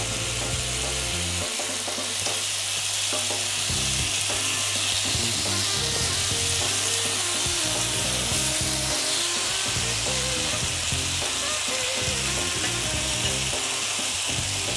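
Spiced chicken skewers cook in a pan, crackling and sizzling continuously as they caramelize, with irregular pops and spatters throughout and no talking.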